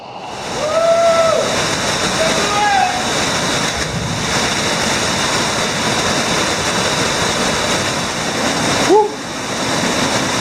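A Panama waterfall roaring in a loud, steady broadband rush that fills the whole stretch, close by, with brief voices and whoops over it.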